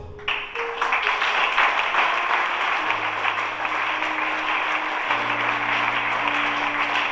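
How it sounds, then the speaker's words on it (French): Sustained applause from a large crowd at a church thanksgiving ceremony, loud and continuous, with a few sustained tones underneath. "Et nous pouvons encore augmenter notre acclamation."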